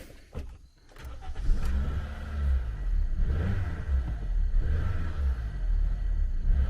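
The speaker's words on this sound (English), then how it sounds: "It's like the throttle's cutting in and out." A car engine on a project vehicle with low fuel revs unevenly close by, its loud rumble surging and dipping as the throttle cuts in and out.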